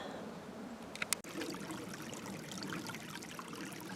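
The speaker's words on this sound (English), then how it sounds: "Just taking a minute to look at the creek and listen to it, because it sounds really nice." A creek flows and trickles in a steady, moderate wash of running water, broken briefly by a couple of small clicks near the start, with no speech.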